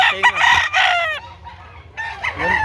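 A gamefowl rooster crows loudly up close, a long strained cock-a-doodle-doo followed by a second crow after a brief pause.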